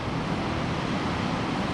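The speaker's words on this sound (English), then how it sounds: "The waves are much bigger than Buncrana because we're near the Atlantic Ocean." Atlantic Ocean surf rolls into a small sheltered bay at Lenon Head beach in County Donegal, a continuous broadband roar of breaking waves with wind buffeting the microphone.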